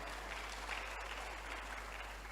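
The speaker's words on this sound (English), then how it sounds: "Clap for them well." Audience applause at a motivational talk, a faint, steady wash of distant clapping lasting a couple of seconds with no clear voices on top.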